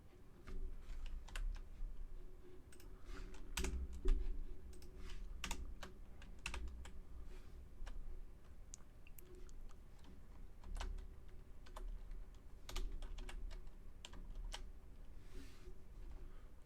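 Typing on a computer keyboard while filling out a web survey form, a steady stream of light key clicks with occasional louder taps, close and quiet over a low background hum, no voices.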